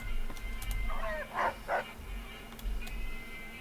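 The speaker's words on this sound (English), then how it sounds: "Dog!" A dog in the video game Fallout: New Vegas gives a few short barks and whimpering yips at middle distance over a low game background hum, with no talking.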